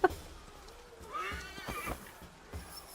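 A horse whinnies in a medieval video game, a faint, wavering neigh rising and falling over a second or so, with soft hoof-like knocks and low background game sound around it.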